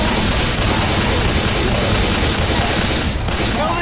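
Dense, continuous gunfire in the PC game Left 4 Dead 2, a loud unbroken barrage of rapid shots with no pauses, no voices.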